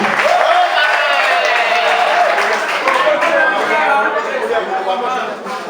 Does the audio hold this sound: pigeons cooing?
no